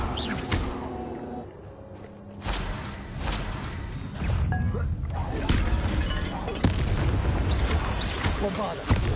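Bombarda explosion spells from Hogwarts Legacy go off repeatedly: heavy booming blasts with crashing impacts and whooshes, several bursts spread across the stretch, loud and near.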